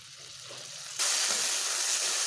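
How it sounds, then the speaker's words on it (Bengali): Spice paste with turmeric sautés in a pan, starting as a quiet low sizzle and then jumping to a brighter, steady hiss after about a second. "মশলাটাকে একটু বেশ ভালোভাবে কষিয়ে নিচ্ছি।"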